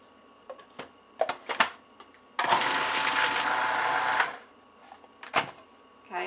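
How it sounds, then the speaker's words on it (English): A food processor purees Greek chicken in a loud, steady whir lasting about two seconds, framed by quieter clicks and knocks before and after. "I'm going to put the lid on the food processor and we're going to go ahead and puree this part up"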